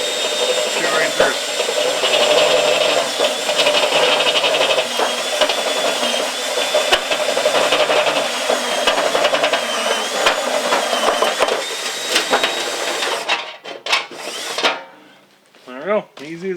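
A Mastercraft step drill bit bores through metal, giving a loud, strained, grinding whine that holds for about 13 seconds and then breaks through and stops abruptly. A voice talks after the drill stops.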